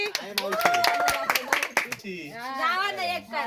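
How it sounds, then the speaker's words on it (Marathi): Family members clap for the uncle who won the game at a family get-together, with scattered sharp hand claps mixed under loud talking and voices throughout. "सगळ्यांनी टाळ्या वाजवा मामासाठी"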